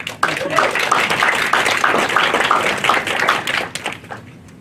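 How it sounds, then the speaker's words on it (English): A lecture audience gives a guest speaker a warm round of applause, a dense, steady patter of many hands close by that carries for several seconds before fading out. "Let's give her a warm round of applause."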